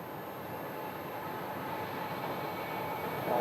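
An American Airlines airliner taxis into the alleyway at an airport, a steady, distant jet engine whine and rumble with a faint high tone, continuous and fairly quiet.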